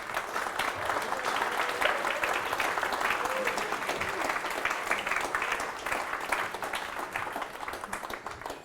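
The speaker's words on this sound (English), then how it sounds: "So if you could all encourage them onto the stage with a massive round of applause" An audience at a DevOps meetup applauds as a panel comes onto the stage, a steady, dense wash of clapping from a large crowd that holds evenly for several seconds before tapering slightly.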